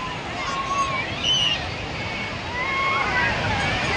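Sea waves wash onto the shore at Puri beach, a steady broad rush of surf close by, with wind buffeting the microphone and faint crowd voices mixed into the background.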